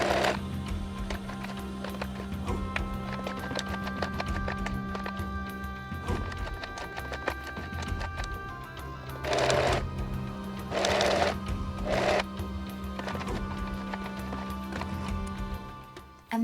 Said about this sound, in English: all I had to do was sew around the edges to join them and make it a pouch